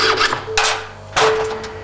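A metal bar is worked with a hand file in a workshop: two rasping strokes sound close and fairly loud, one near the start and a longer one later, with a faint steady tone underneath and no talking.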